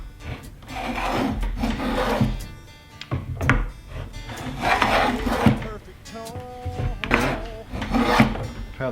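Woodworking hand tool being sharpened, giving repeated rasping, scraping strokes in an uneven rhythm, close and fairly loud, with a voice talking at times.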